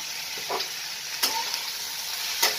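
Salt, turmeric, coriander powder and chili powder fry in a pan as they are stirred over low heat, giving a soft steady sizzle with a few sharp scrapes and clinks of the spoon.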